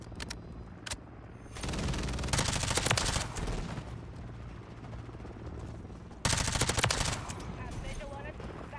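Bursts of automatic gunfire from the Call of Duty Modern Warfare 3 video game, fired with an MP5SD-style suppressed setup, come in two long rapid volleys with scattered single shots, loud and close, amid brief game voice chatter.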